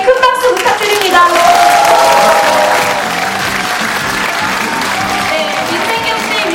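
A large crowd applauds loudly at a Lee Jae-myung political report rally in Jeonbuk, sustained clapping mixed with some cheering, with a voice or tonal sound running over it early on before the clapping settles to a steady level.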